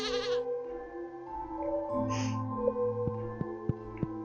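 Goats on a farm in Stardew Valley bleat in short, quavering calls, with a few bright chimes and soft game music tones beneath and a run of light taps near the end.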